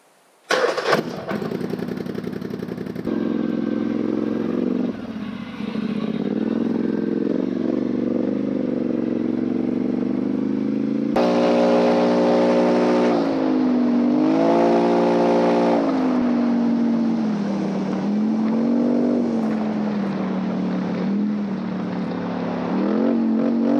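Polaris Sportsman 850 ATV with a 2-inch lift and new A-arm setup on a test ride, its engine running steadily throughout with revs rising and falling, loud and close, no talking.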